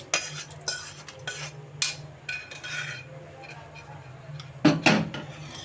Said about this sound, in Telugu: ఇప్పుడు మొత్తం తాళి మొత్తం కలుపుకుందాం